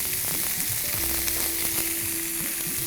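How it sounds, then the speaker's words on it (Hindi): Paneer and green chillies fry in hot oil in a dhaba-style achari paneer, giving a steady close sizzle with faint crackles and the odd stir, and no one speaks. "तेल में मैंने हरी मिर्च डाली और पनीर डाला था।"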